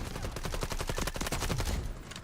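Rapid automatic fire from an AUG rifle with a 45-round loadout in video game Delta Force, a steady, fast stream of close, loud shots across the whole burst, tailing off near the end.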